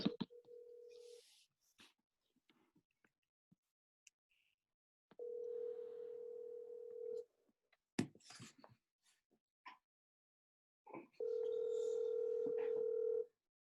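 A phone call rings out over the line: three separate long, steady ringback tones, close and clear, divided by short gaps with faint clicks and small noises.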